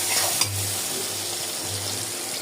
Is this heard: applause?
no